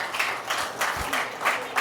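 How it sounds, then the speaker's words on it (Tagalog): A church congregation clapping during a sermon, a moderate, uneven burst of applause with a few sharper hand claps standing out. "Palakpak para sa Panginoon."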